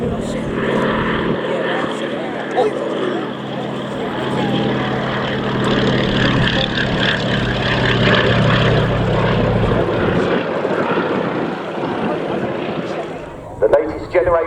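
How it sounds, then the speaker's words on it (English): Royal Navy multi-role maritime helicopters fly at the RAF Cosford Airshow, a loud, steady rotor and engine roar that swells and fades over several seconds, with voices faintly underneath. "The latest generation of multi-role helicopters, specially procured to operate from the frigates and destroyers of the Royal Navy"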